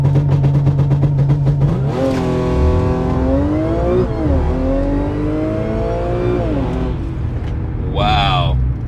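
A supercharged Audi launches from 2,500 RPM, its engine holding a steady drone before surging through loud rising revs with sharp shift dips and a final whine, close and continuous.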